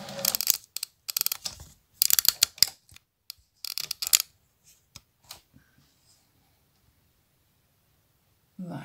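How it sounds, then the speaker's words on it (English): A camera tripod is shifted and adjusted in a run of close, sharp clicks, knocks and rattles of its legs and joints, then small taps fade into near silence with a soft thump at the end. "So I'm just going to move my tripod."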